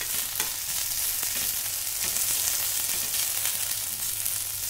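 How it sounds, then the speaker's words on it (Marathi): Okra roasting in a little oil in a pan over a medium flame gives a steady, even sizzle with faint crackles, close by and unbroken, with no voices. "आता छान याचं मॉइश्चर कमी होईपर्यंत आपण असंच भाजून घेणार आहोत."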